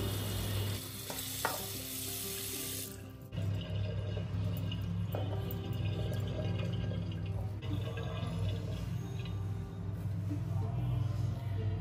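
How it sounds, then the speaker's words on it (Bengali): A plant pot is rinsed with running water. There is a steady hiss of flowing water with small splashes and clunks throughout, fairly close and moderately quiet. "আর এখন যেটার মধ্যে গাছ থাকে ওটা একটু ধুয়ে নিচ্ছি।"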